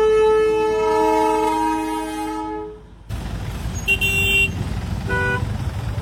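Darjeeling toy train at Kurseong station sounds a long, loud horn blast that fades out, followed by rumbling station noise with a few short, sharp squeals or toots.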